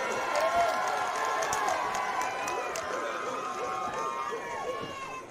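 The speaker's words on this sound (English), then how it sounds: "As you can hear the crowd" A boxing crowd cheers and roars for fighter Cam "SumKid" Mason of the Dog Pound Fight Team, Missoula, Montana, at a 145-pound bout, a loud sustained wash of yelling and whistles with scattered claps and babble throughout.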